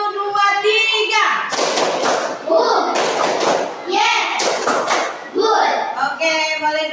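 Children perform a counted classroom clapping routine in a teacher training lesson, delivering rhythmic bursts of claps in groups of one, two and three, with a teacher's voice calling out the counts between them.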